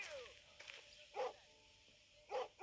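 A dog in an escape video game gives a couple of loud barks that stand out over quiet game background sounds.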